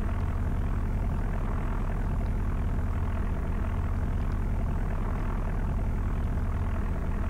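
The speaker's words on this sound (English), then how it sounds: "Let's just cut the throttle all the way back." A Grumman Goose twin-engine amphibian in a flight simulator with one engine throttled back, producing a steady, loud, low propeller-engine drone that continues unbroken throughout with no talking.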